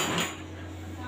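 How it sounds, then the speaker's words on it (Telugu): A lid is set on a metal cooking pot of simmering horse gram stew, one soft metallic clink early on, then a low steady hum, brief and close. "ఇదిగోండి మూత అయితే పెట్టాను."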